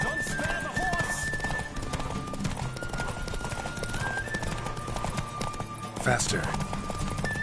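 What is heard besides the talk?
galloping horse in the video game The Witcher 3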